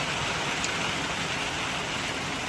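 Steady light rain falls outside lodging in Khon Kaen, Thailand, a continuous soft hiss with no break and no voices.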